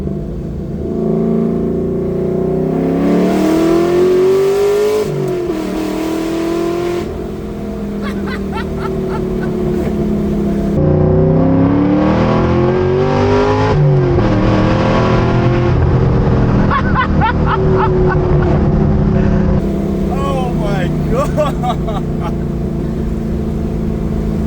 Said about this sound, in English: Let's do a little second gear pull here.